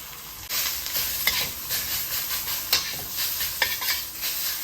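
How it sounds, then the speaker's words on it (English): Chopped pork hitting a hot pan of garlic for kaprow, bursting into a loud sustained sizzle with hissing and rhythmic stirring scrapes and metal clinks, close and continuous, no talking. "go ahead and get your meat in there"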